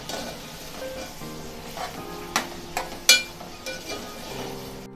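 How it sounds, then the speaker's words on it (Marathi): Onion and tomato fry in oil over medium heat with a steady close sizzle, broken by a few sharp clinks of a spoon stirring against the pan. "हे 4 ते 5 मिनिटांसाठी व्यवस्थित तेलामध्ये तळून घ्यायचे आहे"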